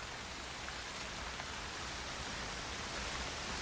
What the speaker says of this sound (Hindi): ऐसी बारिश हौसला तोड़ देती है